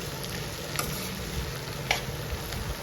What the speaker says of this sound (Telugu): ఇప్పుడు ఆ కారం అంతా ఫ్రై అయిపోయింది.